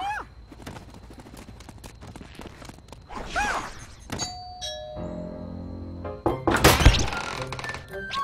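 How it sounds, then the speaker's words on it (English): A doorbell chimes at the Club 13 entrance in Epic Mickey 2, its ringing tones set among game sound effects and a sharp crash that follows. "Shall we announce ourselves by ringing the doorbell?"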